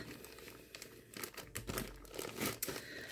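Package of a carded wool felting kit being torn open, continuous close crinkling and crackling of plastic wrapping with sharper rustles toward the end, quiet overall and without talk.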